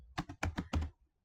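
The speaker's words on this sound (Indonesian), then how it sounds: "Kali ini kita ketikkan" Typing on a laptop keyboard while entering a web address in a browser, a short quick run of about five close, crisp key taps, then stopping.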